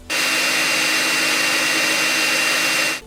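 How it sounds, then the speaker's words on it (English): A Dreame Z10 stick vacuum runs its motor on max power, making a loud, steady, high-pitched whine close up that starts abruptly, holds for about three seconds and then cuts off, with no voices. "On max power, it's all about that vacuum motor, high-pitched, kind of like an airplane."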